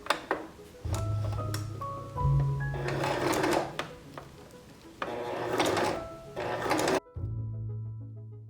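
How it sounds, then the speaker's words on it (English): A home sewing machine runs lines of gathering stitches along a center seam for a 1930s-style top, with steady low whirring bursts that stop and restart, and small clicks and clatter between runs. "I ran a line of gathering stitches along either side of the center seam."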